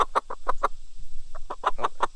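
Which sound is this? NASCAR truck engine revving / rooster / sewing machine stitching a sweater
rooster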